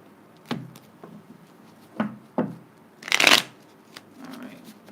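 Tarot cards shuffled close up, several short soft card taps and slides followed by one dense crisp riffle, then a faint trailing rustle; low and intimate, without speech.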